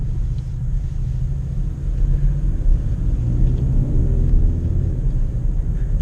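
An Audi A3 fitted with a Sprint Booster throttle controller rumbles deeply from inside the cabin, its engine note swelling slightly louder as the revs climb over several seconds, with no voices.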